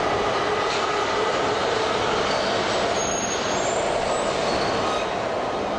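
A passenger train in Iran rolls along the rails, a dense, steady rumble and rushing noise heard from inside the carriage, loud and continuous throughout with no voices.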